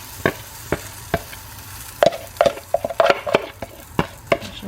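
A mixture cooks in a Berkoff non-stick frying pan: a low frying hiss sits under sharp, irregular knocks and scrapes of a utensil against the pan, close and fairly loud.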